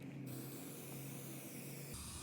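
Brake parts cleaner sprays from an aerosol can onto car parts, including a TBI injector pod spacer built with JB Weld steel stick. It makes a loud, steady, close hiss for about two seconds, then cuts off.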